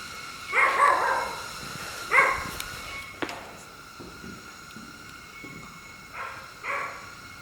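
Dog barking inside an abandoned hotel, a few sharp, moderately distant barks in short bursts separated by quiet stretches, with faint rustling between them.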